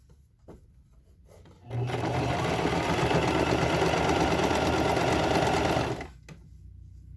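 Sewing machine running steadily for about four seconds while stitching a short, loud and close, starting and stopping abruptly with quiet pauses on either side.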